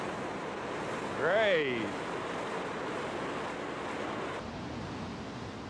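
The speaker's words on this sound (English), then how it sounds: "cutthroat must battle the wild river. Water velocity at LeHardy Rapids averages 5 feet per second." Wild Yellowstone River rushing through LeHardy Rapids, a steady broad roar of churning water throughout, with a brief excited voice exclaiming briefly over it early on.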